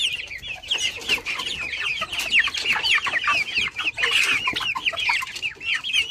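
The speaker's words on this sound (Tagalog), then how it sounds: "Ito yung mga rooster 10 heads." A flock of heritage chickens, with about ten roosters among them, clucks and chatters continuously up close, dense overlapping calls with no single clear crow standing out.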